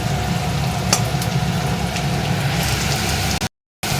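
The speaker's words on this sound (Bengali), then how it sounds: "এবার আমি মাটনটা করবো বলে এখানে পেঁয়াজটা ভেজে নিচ্ছি।" Onions fry in a pan for a mutton dish with a dense, steady sizzle up close. The sound cuts out briefly near the end.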